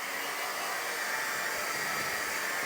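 A heat gun blows a steady, even whoosh of hot air as it dries chalk paste on a fabric banner, running continuously and close to the microphone.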